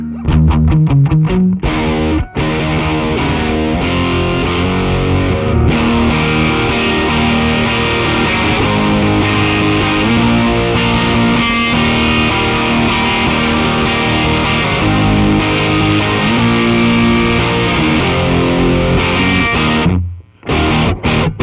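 A distorted electric guitar plays chords and riffs through a Sir Riot overdrive pedal, fuzzy, loud and sustained, with brief pauses between phrases.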